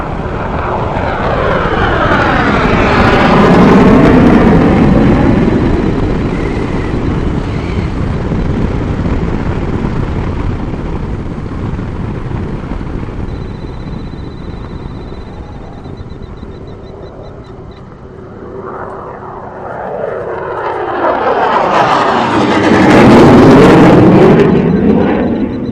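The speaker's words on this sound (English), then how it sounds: "F-16." F-16 fighter jet roaring overhead, a loud swelling engine rush that builds, passes, eases and then swells again, heard outdoors with no talk.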